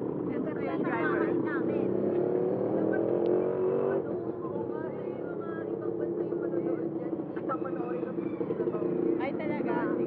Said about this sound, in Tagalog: Ngayon na kami nakasakay sa ganitong tricycle.